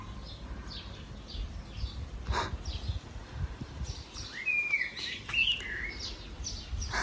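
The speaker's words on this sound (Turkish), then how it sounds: "Ay, kuşlara bakın ya." Several birds chirp and sing outdoors, with repeated short tweets and a few clearer whistled calls over a soft rustling background, fairly close and alone without talk.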